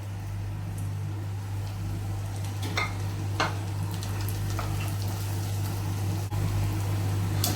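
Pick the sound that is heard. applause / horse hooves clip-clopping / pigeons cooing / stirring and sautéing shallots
stirring and sautéing shallots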